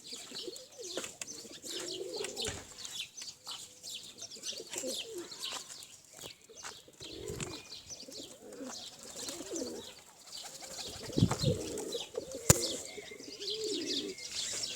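Several pigeons coo repeatedly outdoors during a flying session, their low warbling calls recurring throughout alongside scattered chirps and occasional wing flutters, with no talking.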